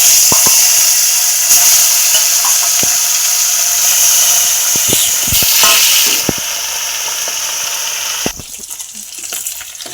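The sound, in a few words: fish frying in a pan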